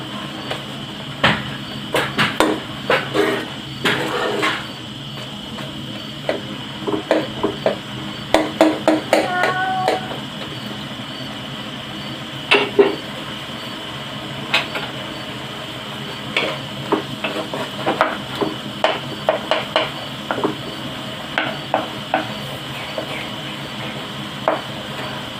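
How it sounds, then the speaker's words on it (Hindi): Large softened tomatoes mashed with a spoon in a pot over sizzling heat, repeated clinks and scrapes of the spoon against the pot in uneven bursts over a steady frying hiss. "ये टमाटर बड़े बड़े हैं, इनको चम्मच के साथ में थोड़ा छट्टा करने लगी हूँ।"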